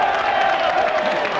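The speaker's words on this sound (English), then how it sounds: "The crowd roar their approval at Mr. Ollerton's on-the-spot decision" Rugby league crowd at Bradford versus Wakefield roaring approval of a referee's on-the-spot decision, a loud, continuous mass of cheering voices filling the stadium without pause.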